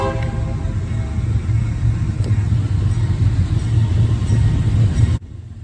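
A long freight train rolls past nearby, a loud, steady rumble of wheels and cars that cuts off abruptly near the end.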